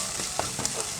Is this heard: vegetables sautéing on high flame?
yes